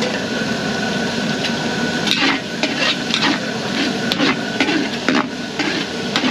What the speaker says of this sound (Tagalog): pa-fried lang natin ng konti yung bawang sa sibuyas natin.